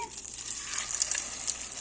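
An egg-dipped cutlet breaded in rolled oats and corn flour fries in a pan, giving a faint, steady sizzle with small crackles and no talk.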